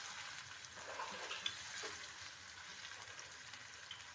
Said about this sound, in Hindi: अब चिकन को हम हल्की आंच पर फ्राई करेंगे